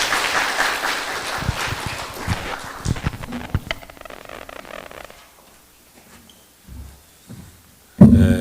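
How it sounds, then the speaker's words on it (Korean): A congregation claps for a newly married couple during a Sunday morning service at a Methodist church in Korea: a burst of mixed applause that thins and fades over several seconds, followed by a few scattered knocks and rustles. "박수해 주세요"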